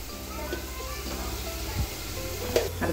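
Sukka mutton with onion and spice powder sizzles in a pan after salt is added, a steady faint frying hiss with occasional stirring scrapes and clinks close by.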